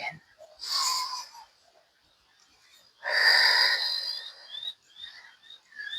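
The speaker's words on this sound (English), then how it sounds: "And exhale through the mouth." Two audible mouth exhales during a slow relaxation stretch, each a breathy whoosh lasting about a second, close and moderately loud, separated by quiet pauses with faint background sounds.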